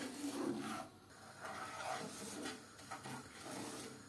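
Semolina halva is stirred and roasted in a pan, a dry rasping scrape of spoon against grains and metal in uneven strokes with brief pauses, close and fairly quiet.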